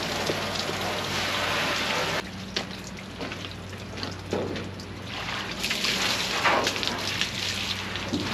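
Rusty metal being rinsed with water after a muriatic acid treatment, a steady splashing spray that shifts in intensity, with spattering drops and trickles.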